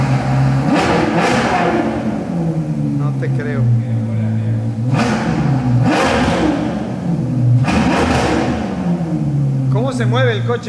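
A Mitsubishi Evo's engine revs repeatedly in loud surges with a steady rumble between them, in Miami, and voices speak briefly between revs.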